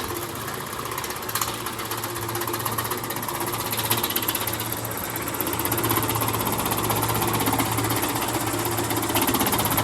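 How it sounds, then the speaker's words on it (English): An old motor-driven power hammer, around 50 years old and run by a small electric motor, runs continuously, a rapid mechanical clatter and rhythmic knocking over a steady electric hum, close and fairly loud. "Very similar to the power hammer in operation, run by a little electric motor."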